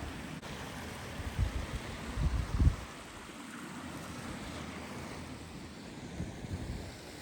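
A creek flows near a road at a camping spot, heard as a steady broad rushing wash mixed with low wind buffeting on the microphone, with a few louder gusts early on and no voices.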